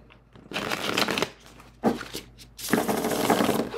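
Tarot cards are shuffled face up by hand, giving close riffling bursts in several rapid runs separated by short pauses, loud and dry, with no talk.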